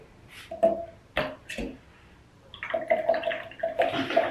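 A paint brush is rinsed in water after applying Vallejo crackle effect medium, giving short splashy swishes in bursts, then a denser stretch of sloshing near the end.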